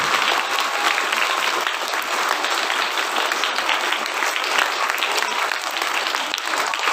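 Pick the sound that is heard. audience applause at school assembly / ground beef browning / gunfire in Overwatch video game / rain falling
audience applause at school assembly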